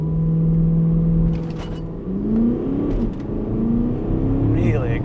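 Porsche Cayenne 4.2 TDI V8 diesel pulling hard on a dyno-remapped launch, its engine note climbing, dropping sharply at each gear change and climbing again, loud and steady throughout with brief voices over it.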